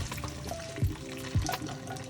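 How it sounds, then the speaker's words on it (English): Water splashes and pours briefly into a sink as cooked noodles are drained, with a couple of soft thuds, quiet and close. "Drain out the water."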